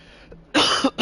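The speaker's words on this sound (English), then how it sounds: "I start getting a cough late." A single person coughs close to the microphone, two or three harsh bursts in quick succession with no other sound.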